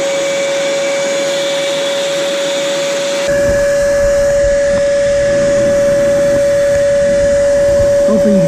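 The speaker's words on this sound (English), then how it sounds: "then we'll just turn our vacuum on" A homemade shop-vacuum oil extractor switches on partway through, drawing used engine oil out of a lawn mower through a tube into a jar; a steady loud motor whine with a tonal hum continues alone after a quieter start.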